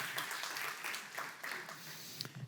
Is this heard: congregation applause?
yes